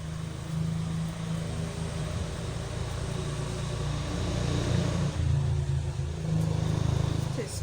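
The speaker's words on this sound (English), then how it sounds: "Excuse the traffic noise. It's very busy here in Cornwall this summer." Busy summer road traffic in Cornwall, a continuous low rumble of passing cars and engines rising and falling as vehicles go by, loud and constant for the whole stretch.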